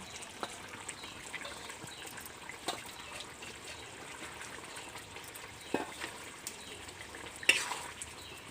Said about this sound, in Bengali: ধনে পাতা দিয়ে ভালোভাবে নাড়াচাড়া করে নেবো যাতে ধনে পাতা সবজির সাথে মিশে যায়।